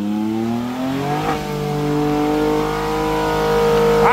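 An off-road vehicle engine revs and climbs in pitch as it accelerates up a hill on a dirt trail at Doi Po Per in Omkoi, Thailand, loud and close with no talk.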